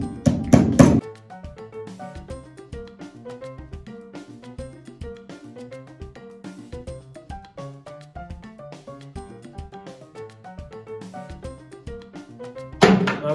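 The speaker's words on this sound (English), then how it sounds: "you need to grab your hammer and make them a bit more flat" Repeated metal hammer strikes, sharp ringing taps in a fast irregular rhythm, with a couple of heavier clattering bursts at the start and end.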